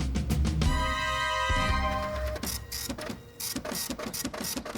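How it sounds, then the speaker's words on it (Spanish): An old printer runs with a steady mechanical chatter and whir, rising tonal hums and rapid repetitive clicks, fairly loud and close with no voices. "Es una impresora antigua."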